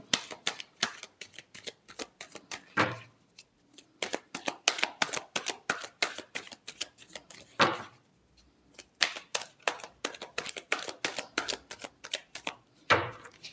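Tarot cards being shuffled in quick bursts of crisp riffling flutters, with a few louder slaps as the deck is squared, close and dry against near silence.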